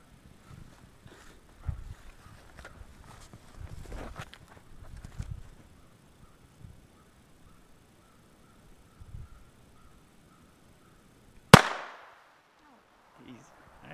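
One sharp, loud gunshot from a firearm at a shooting range rings out near the end, with a short decaying echo, after a stretch of quiet outdoor ambience with faint thumps and soft movement.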